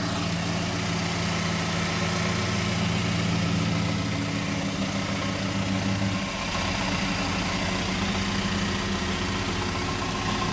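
A 2015 Chevrolet Colorado extended cab long box pickup idles steadily up close, a smooth, even engine drone with a low hum that shifts slightly partway through and never revs.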